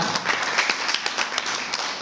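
A church congregation claps together in praise during a worship service, a dense patter of many hands with scattered sharper individual claps, moderately loud and steady across the moment.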